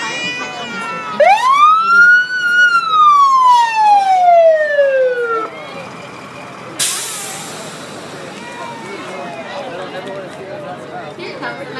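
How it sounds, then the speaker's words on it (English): Valley Center's first fire engine from its fire protection district rolls past at the 2016 Western Days parade. A siren gives one long wail that rises and falls, then an air brake releases a sharp hiss, with crowd chatter around it. "This was Valley Center's first fire engine after becoming a fire protection district"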